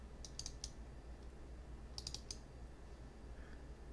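Rapid double clicks of a computer mouse in two short bursts against quiet room hiss, no voice present.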